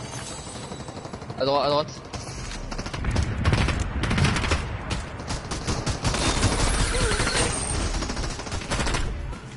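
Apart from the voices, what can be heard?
gunfire from the opposing side in a video game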